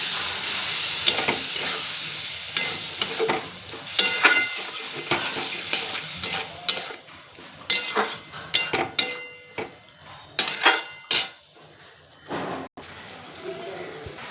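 Potatoes with poppy seed paste sizzle in a pan after a splash of water is added, the frying hiss broken by repeated scraping stirs and clinks of a spatula against the pan.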